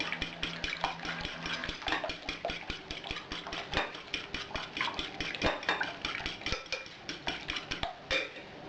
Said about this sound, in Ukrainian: Нам потрібно 2 яйця, трошечки розколотити.